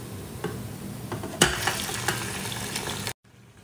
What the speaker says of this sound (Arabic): هقلبها وأخليها تتقلقل كده مع الزيت والبصل ويتغير لونها